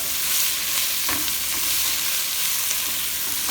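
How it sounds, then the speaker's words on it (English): Tomato paste roasting with vegetables in a pan for German beef rouladen, a steady close sizzle with faint stirring scrapes and no talk. "we're gonna add it, and we're gonna roast it for like a minute or so together"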